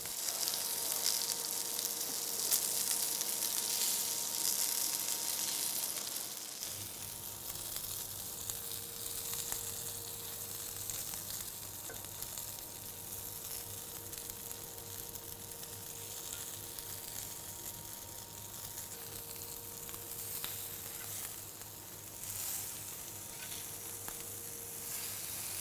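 Duck breast sears skin side down on a moderately hot plancha, a constant close hiss and sizzle with a low hum underneath and no voices.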